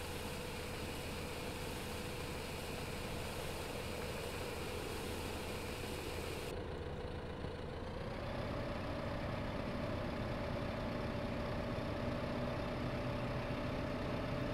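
Steady tractor engine labouring under load in Farming Simulator 2015, a continuous low droning hum with a slight shift in pitch partway through, and no talk.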